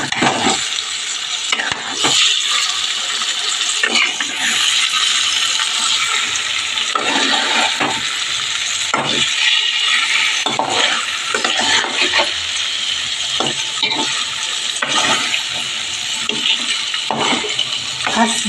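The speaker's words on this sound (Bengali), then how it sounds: "এবার আমি ভালো করে খুন্তি দিয়ে নেড়েই, হাত আর লাগাবো না, এটা দিয়ে আমি মেখে নিচ্ছি।" A spatula stirs and mixes hilsa fish with mustard oil in a pan over a lit gas flame, giving continuous scraping and wet sizzling that runs steadily throughout, close and fairly loud, with no talking.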